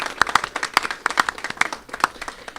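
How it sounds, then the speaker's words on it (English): A modest audience applauds students of Edward R. Murrow High School in Brooklyn; the clapping is fairly close and uneven, with individual sharp claps standing out from a thinner crowd. "so a big round of applause."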